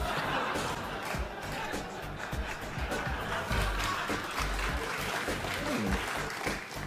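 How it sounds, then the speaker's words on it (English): A television studio audience applauds on a late-night talk show, sustained dense clapping that holds steady throughout with some crowd murmur mixed in. "A slow gathering applause. It took many years, but the applause came in."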